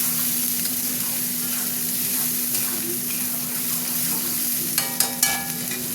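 Onion and tomato paste frying in a pan gives a steady, close sizzle throughout, with a few sharp utensil clinks near the end.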